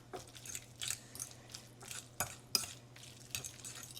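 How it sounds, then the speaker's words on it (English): Mashed avocado is stirred in a bowl with a utensil, producing soft, repeated scraping and clicking strokes against the bowl in an irregular rhythm, close and fairly quiet with a low background hum. "I'm just gonna mix this all up together"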